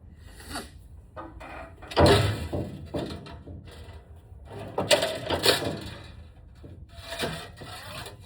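Sheet metal duct flanges being hemmed with a Malco hand tool, a series of close metallic clanks, crimps and scrapes in irregular bursts.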